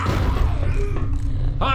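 Hunter special infected in Left 4 Dead growling, a short rough guttural snarl up close, loud and brief, ending in a sharper burst at the close.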